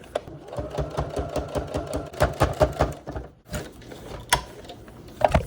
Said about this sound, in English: I'm just gonna sew right through the cardboard